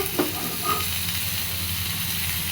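Food fries in a covered pan, a steady close sizzle with a couple of brief stirring clinks near the start, no talking.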